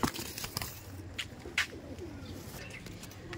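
Domestic pigeons coo softly over a low hum, one white pair among birds offered at a home loft sale, with a few brief chirps and wing-like flutters scattered through the short stretch.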